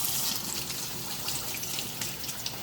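Tap water runs into a sink or basin while warming water for dyeing yarn, a continuous close splashing gush with small irregular spatters and no talking.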